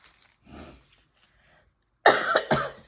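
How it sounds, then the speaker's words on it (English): A person coughs close by: a soft early cough, quiet pause, then two harsh, loud coughs in quick succession near the end. "I'm doing a lot of coughing today"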